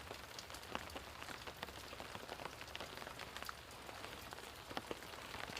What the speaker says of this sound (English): I thought you guys might enjoy sitting in the rain here with me in Baltimore.